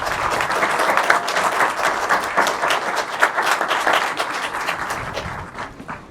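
Audience applause at a high school graduation for the Class of 2020, a broad crowd clapping steadily with a dense, bright patter that swells slightly and then eases over about six seconds.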